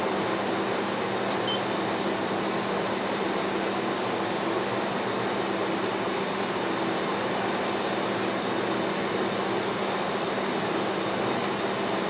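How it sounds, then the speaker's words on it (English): DMG Mori Dura Vertical 635 Eco CNC vertical machining center spindle running at around 2,000, a steady, even mechanical hum and whir with no breaks, continuous and fairly loud throughout. "Go ahead and run the spindle."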